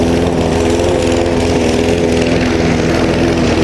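A lawn mower engine runs hard at high revs, loud and close, with a steady buzzing drone that never lets up and no talk over it.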